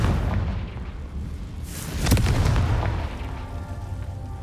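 A Confringo fire spell explodes in Hogwarts Legacy, a single deep, loud boom with a crackling burst that rumbles and fades over a few seconds above a low ambient hum.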